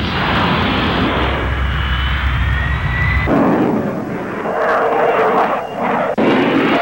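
Jet-powered car roaring loudly and continuously, a dense engine blast that shifts abruptly in tone midway as it rushes past, with no voices.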